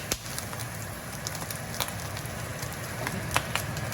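Chinese sausage sizzles and fries in a little oil for egg fried rice, a soft steady crackle with scattered sharp pops, close and fairly quiet.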